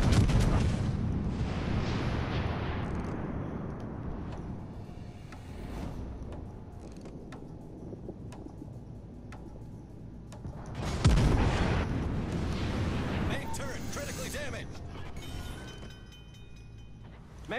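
Heavy naval guns fire in a World of Warships battle against an enemy warship, with two big booming salvos about ten seconds apart, each decaying into a long rumbling tail, plus mechanical clanks and scattered impacts between them.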